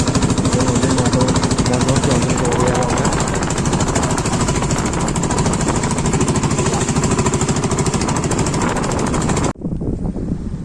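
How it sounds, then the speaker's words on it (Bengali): A loud motor boat engine chugs steadily and rapidly on a Sundarbans river, close up with rushing wind, before abruptly dropping in level near the end; a voice speaks briefly. "তারপরে আমরা নৌকাটা স্টার্ট দিয়ে নিলাম"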